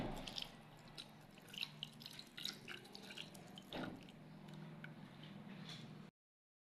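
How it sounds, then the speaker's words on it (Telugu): Yogurt stirred into a chicken biryani mixture, giving soft wet squishing and dripping sounds with a few sharper clicks against the pot, close and fairly quiet, with a steady low hum underneath. "కలుపుకున్న తర్వాత ఇప్పుడు పెరుగు అయితే వేసుకోవాలా"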